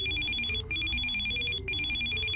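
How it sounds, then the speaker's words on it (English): A telephone rings in the video game Still Life 2, its electronic trill repeating in steady bursts with short gaps over a low ambient game background, no talk. "Come on, answer your phone."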